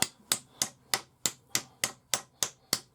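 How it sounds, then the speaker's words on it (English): A hammer strikes a metal ferrule being fitted onto a wooden survival scout stick, ten sharp, evenly spaced ringing blows about every third of a second, close and clear with no talking. "let's just hammer this to where we want it"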